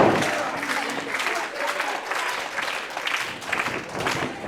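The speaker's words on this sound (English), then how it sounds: "Crowd's starting to fire up and get behind Valhalla." Crowd at a wrestling match cheering and clapping for the tag team Valhalla Rising, a steady wash of applause and shouts that rises and falls in waves, fairly close and sustained.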